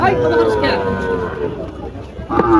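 Cattle at a busy cattle market in Faridpur low with long, loud, close moos, one after another, over a background of crowd chatter.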